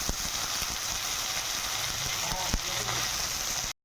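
Sliced onion and potato sizzling in a pan, a steady close hissing fry with a few sharp clicks of stirring, then a brief cut to silence near the end.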